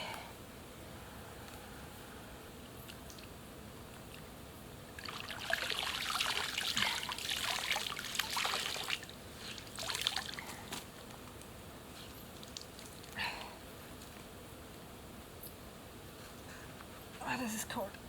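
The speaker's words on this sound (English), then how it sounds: "I've seen down here by the creek, there's a deep pool" Water trickling and splashing in a woodland creek near a deep pool, a soft steady flow with louder splashy bursts, quiet and close, with no talking.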